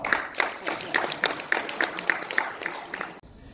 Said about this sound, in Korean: 박수 한 번 더 드릴까요?